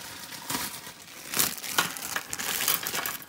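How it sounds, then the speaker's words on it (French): A small plastic bag of action figure accessories for an orc figure is handled and opened, giving close, sharp crinkling and rustling in several quick bursts. "Et puis, on va ouvrir le petit sachet"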